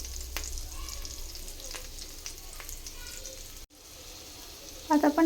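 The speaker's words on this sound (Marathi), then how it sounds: "ह्यामध्ये आपण पनीर मस्तपैकी फ्राय करून घेऊया।" Masala-coated paneer cubes frying in a pan, a soft steady sizzle close by with a few light taps, a brief dropout, then a couple of louder knocks near the end.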